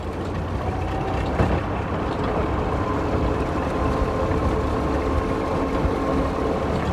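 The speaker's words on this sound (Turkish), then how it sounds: "Osman abimizle beraber traktörüne bindik" A tractor engine rumbling steadily during a ride through a Turkish village on a cold day, a loud, continuous low drone close by with a brief knock partway through and no talk.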